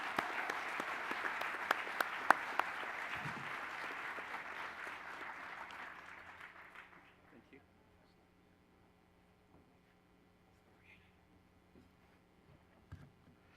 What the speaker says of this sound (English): Could we have one final round of applause for all of our Shingo Bronze Medallion winners tonight?